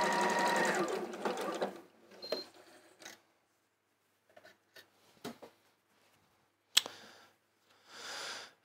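A sewing machine stitching fabric, a short whirring run at the start followed by sparse clicks and a brief final burst, close and quiet.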